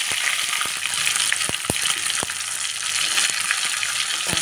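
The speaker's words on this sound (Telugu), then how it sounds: "వెల్లుల్లిపాయ కూడా వేసుకొని బాగా వేయించుకొని" Garlic fries in hot oil in a pan for a tomato and gongura curry, giving a busy, close crackling sizzle with scattered sharp pops and light stirring clicks, no voices.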